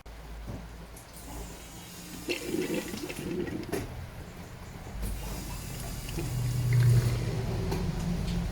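An electric fuel pump on a TVR 290 S runs while fuel pours into a jerry can, making a low mechanical hum with splashing liquid that grows slightly louder toward the end.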